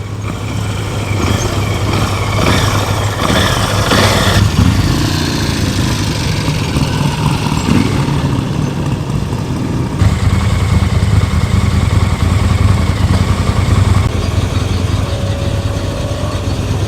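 An old Norton motorcycle engine idles steadily at a classic car show, a constant mid-pitched thrum heard amid outdoor ambience with no voices.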